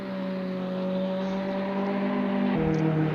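A Ferrari 488 race car in a racing video game at Sebring holds a steady, droning engine note at low speed, with a slight shift in pitch near the end and no talk over it.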